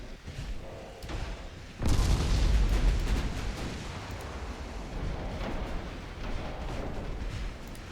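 Naval gunfire from a ship's gunners firing HE shells in a naval game, a sharp boom at about two seconds followed by a rolling rumble and further softer distant thuds, moderately loud.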